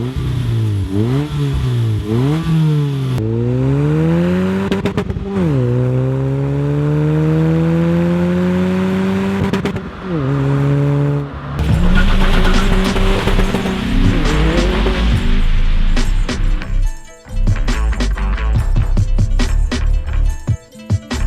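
A Toyota Etios Sprint hatchback with a 1.5-liter 16-valve straight engine accelerates hard, loud close revs climbing through several gear changes, then rougher engine and road noise toward the end.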